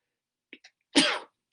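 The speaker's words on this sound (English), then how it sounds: "And I'm going to sneeze again for a moment here." A single loud, close sneeze bursts out alone, preceded by a couple of faint sharp inhaling catches.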